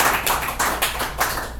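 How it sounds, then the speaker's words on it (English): A comedy club audience at a headlining stand-up set claps in a short, close burst of applause with loose, uneven rhythm. "give me a round of applause"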